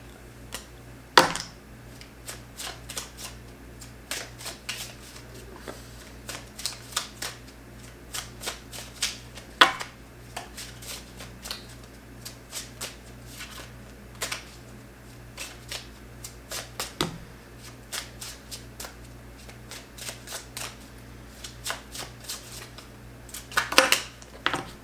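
Tarot cards shuffled and handled close up at a table, a steady soft riffling and papery rustle with occasional sharper slaps and snaps of cards landing, alone without talk.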